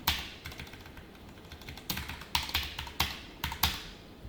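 Quick bursts of computer keyboard typing as code is entered, clustered taps with short pauses between, close and fairly quiet, no voices.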